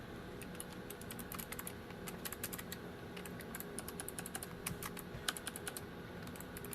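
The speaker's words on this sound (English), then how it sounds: "the spacebar does have a slightly different sound when you're typing on it" Quiet, steady typing on a Logitech G815 keyboard, with rapid key clicks in uneven bursts over a low background hum.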